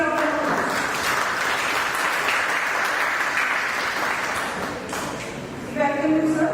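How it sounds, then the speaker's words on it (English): An audience at a panel discussion on palm oil gives sustained applause welcoming the panel chairperson, dense and loud throughout, with a voice over it near the end. "Please give a big round of applause."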